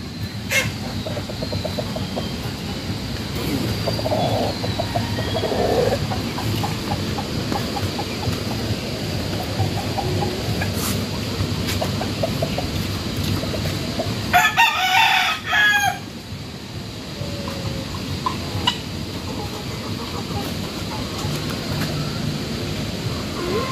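Rhode Island Red gamefowl roosters and brood cocks on a farm crow repeatedly, mixed with clucking across a steady outdoor background, with one louder, nearer crow standing out midway.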